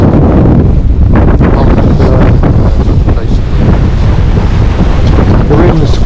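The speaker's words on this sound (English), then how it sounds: "The wind's increasing slightly, although the waves have calmed down" Strong wind buffets a sailboat at sea under closing-in weather, a loud continuous roar with gusty microphone rumble and the wash of water around the hull throughout.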